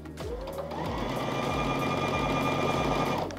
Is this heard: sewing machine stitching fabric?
yes